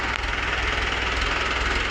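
Tractor engine running steadily to drive a water pump on a farm field, a continuous low diesel drone with a fine throbbing rumble, close and unbroken, with no voices.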